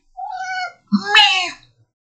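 A cat meows twice up close, a drawn-out first cry and then a rising, slightly longer second one, clear against a silent background.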